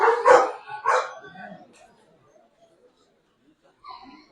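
Service dogs sit in the audience at a service-dog class graduation ceremony. Two or three sharp barks come close together near the start, then the room goes mostly quiet before a faint, brief stir at the end.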